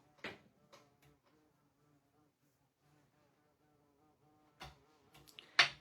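A faint bee buzz drones softly in a quiet room, with a few sharp clicks and taps near the start and end.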